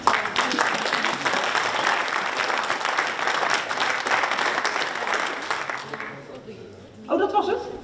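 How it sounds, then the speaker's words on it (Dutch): Audience applause at a sustainability debate in Epe, a steady wash of clapping that fades out after about six seconds before a voice speaks briefly. "Eerst een applaus voor Helga."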